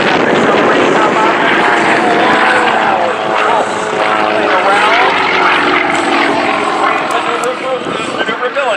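A Sukhoi Su-29 aerobatic plane roars past low over the ground at an air show, its propeller engine loud and close throughout with a constant buzzing drone.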